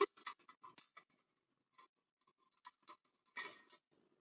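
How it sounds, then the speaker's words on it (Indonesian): Curved scissors cut a colostomy bag, giving a string of soft, close snips and crisp plastic crinkles with quiet pauses and one louder rustle near the end. "menggunakan gunting bengkok seperti ini untuk mempermudah pengguntingan"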